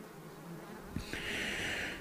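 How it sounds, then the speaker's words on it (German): A buzzing swarm of bees, a sound effect in a German audiobook reading of Winnie-the-Pooh, starts about halfway in and then holds as a steady, fairly close drone over a soft background. "Die Bienen summten immer noch so argwöhnisch wie eh und je."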